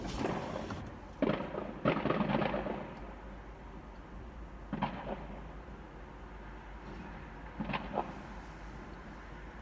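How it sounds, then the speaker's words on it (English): A few faint, distant pops ring out at irregular intervals against a quiet outdoor background. "That sounds like gunshots in the distance."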